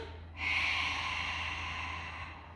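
Sharp, close nasal exhale during a Pilates bridge on a Swiss ball, starting suddenly and trailing off softly over a quiet background hum.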